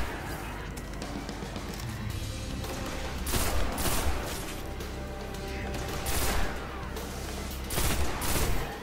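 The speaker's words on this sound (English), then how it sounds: "Hey, burst fire." Burst-fire gun shooting in the video game Destiny, with dense rapid volleys of gunfire and explosive impacts overlapping continuously, loud and close, with louder bursts recurring every few seconds.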